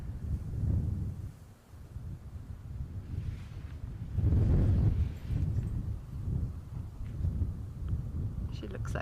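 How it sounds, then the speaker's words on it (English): Constant wind buffeting an outdoor ambient microphone on a safari broadcast at sunset, a loud low rumble that swells and gusts throughout, with a voice talking over it. "there's a constant wind sound which is obviously going to interfere with their hearing quite a bit"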